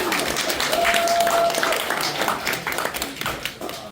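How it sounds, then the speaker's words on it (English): A crowd at a queer poetry reading claps for the poet in a steady, dense wash of applause that continues throughout, with some voices mixed in. "So applause to Donny."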